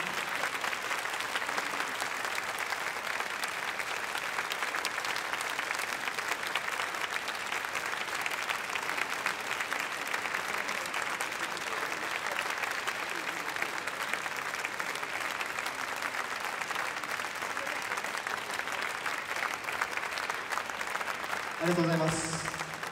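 A jazz concert audience applauds for an encore, sustained clapping filling the hall at a constant level for a long stretch, with a voice briefly cutting in near the end.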